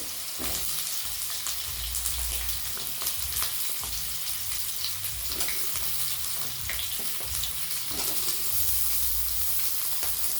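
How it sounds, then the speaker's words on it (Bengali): Moringa drumstick stems frying in oil in a pan for a mixed-vegetable dish, a steady crackling sizzle running throughout with occasional sharper pops and low scraping knocks near at hand. "তারপর আমি সজনের ডাঁটাগুলো ভেজে নেব।"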